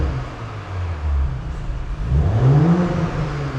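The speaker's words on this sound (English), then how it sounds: "So it is cold, so we won't be revving it any further than 3000 RPM." A cold Audi S4 Avant B9 engine idles with a steady low drone, then revs up to no more than 3000 RPM with a rising whine that climbs and falls back, loud and close.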